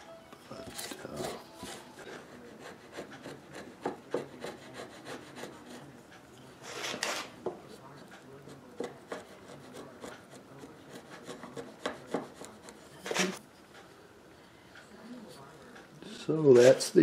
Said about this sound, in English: I'll round it off with sandpaper.